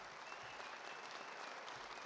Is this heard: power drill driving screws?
no